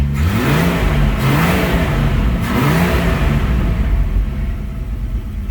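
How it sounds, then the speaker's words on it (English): An AMC 199ci inline-six being revved, loud and close, with rising and falling engine pitch across a couple of throttle blips, rough and rumbling with no talk over it. "Let's see what she sounds like when we rev her up a little bit."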